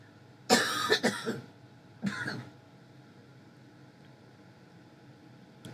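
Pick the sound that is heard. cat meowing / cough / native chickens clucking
cough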